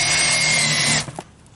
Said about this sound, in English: I'm using these self-tapping screws as a drill.